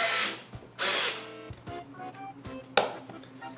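A power drill drives a screw through a bracket into MDF board in a few short whirring bursts with pauses between them, close and fairly loud.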